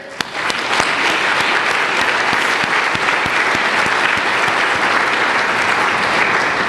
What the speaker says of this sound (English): I want you to applaud yourselves for your being here.